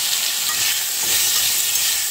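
Shrimp frying in a spoonful of oil with salt and turmeric, giving a steady, loud, close sizzle and hiss that continues evenly, with no voices.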